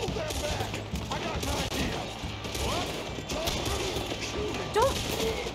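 Gunfire in the Red Dead Redemption 2 video game, a sustained fusillade of rapid shots with bursts and sharp cracks throughout, fairly loud and dense, mixed with game noise and faint voices.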